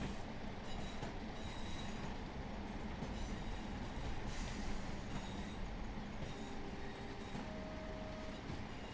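Class 47 diesel locomotive in Train Sim World 4 pulling out of a station platform, a steady rumbling engine and rolling-stock drone with faint wheel squeal, continuous and at moderate distance with no voices.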